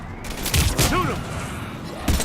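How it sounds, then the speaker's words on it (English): Gunfire from a Mass Effect 3 firefight against Husks, a few booming shots that rise to a dense volley at mid-clip, with game voices shouting over the combat noise. "Shoot him!"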